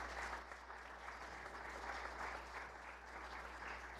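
A city council candidate forum audience claps in a steady, even round of applause, distant and fairly faint, over a low electrical hum.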